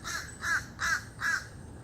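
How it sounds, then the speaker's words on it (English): A crow caws four times in a measured series, each harsh call clear and fairly close against a quiet outdoor background, with no talking. "That is a crow."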